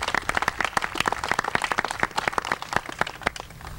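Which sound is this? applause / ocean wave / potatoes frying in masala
applause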